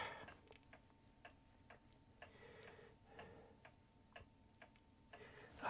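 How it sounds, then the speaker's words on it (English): A clock ticks quietly in a still room, the soft, even ticks coming at a regular rhythm through the whole stretch. "the ticking of the clock can be heard"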